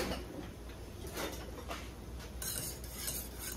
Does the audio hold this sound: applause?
no